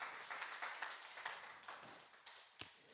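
Church congregation clapping at a Friday worship service, a dense, steady patter of many hands held at moderate volume, with one sharper single clap standing out near the end.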